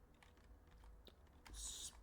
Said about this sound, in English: Oh my gosh, not typing very well today.